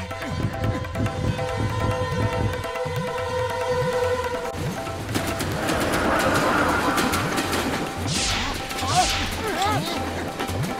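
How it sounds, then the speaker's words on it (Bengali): A cartoon train approaches, its rhythmic rail clatter and rumbling wheels building under excited voices and background music, growing busier and louder toward the end. "ট্রেনটা এদিকে আসছে।"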